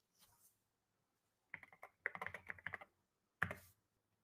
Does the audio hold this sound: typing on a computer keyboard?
yes